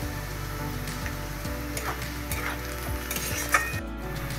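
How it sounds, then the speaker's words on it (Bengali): Slit green chillies frying with lightly fried onions in hot oil, a dense continuous sizzle with a steady rhythmic stirring beat roughly twice a second, close and fairly loud, without speech. "পেঁয়াজ হালকা ভাজা হয়ে গেছে। এখন দিয়ে দিচ্ছি কোচানো কাঁচা লঙ্কা"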